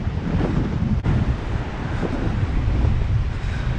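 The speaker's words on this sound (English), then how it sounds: "As soon as we walk around this point, super windy." Strong coastal wind near sea caves at Seaside, Oregon buffets the microphone in a steady, heavy rumble, with surf faintly rolling beneath.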